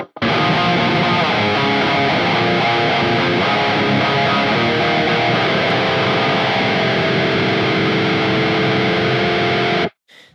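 Heavily distorted electric guitar, tone run through a Quad Cortex, plays a loud, sustained riff for about ten seconds, then cuts off abruptly.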